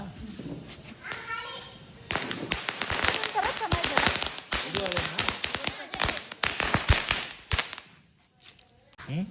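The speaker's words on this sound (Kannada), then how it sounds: "ಸೊ ಇವಾಗ ಇಲ್ಲಿ ಪಟಾಕಿ ಎಲ್ಲ ಇಷ್ಟು ಹೊಡೆದಿದ್ದೀವಿ" Firecrackers bursting outdoors at a Tulsi festival celebration, a dense run of sharp cracks and pops that is loud and close for several seconds, with children's voices and chatter around them.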